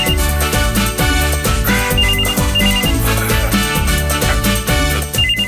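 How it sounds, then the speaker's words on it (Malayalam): An indoor telephone rings with a looping melodic ringtone over a steady electronic beat, loud and continuous with no speech. "ഫോൺ ബില്ലടിക്കുന്നു, അത് എടുക്കൂ"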